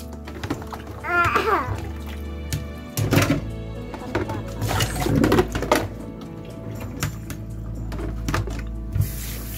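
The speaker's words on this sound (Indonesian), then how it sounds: "saya siram dengan air dingin dulu biar nggak terlalu lembek" Cold water poured over freshly cooked spaghetti in a home kitchen, with splashing and running water mixed with clunks of a pot or colander and some background noise, close and moderately loud.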